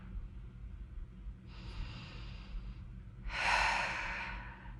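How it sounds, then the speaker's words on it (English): Two slow, deep breaths during a mobility stretch, a softer inhale followed by a louder, longer exhale, close and alone in a quiet room. "And again, take a deep breath in and out."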